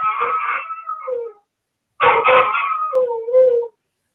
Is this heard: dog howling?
yes